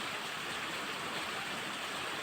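The Gai river flows near the Akashi Ganga site at Likabali, Arunachal Pradesh, as a steady, dense rushing wash of water with no breaks, filling the scene at moderate loudness.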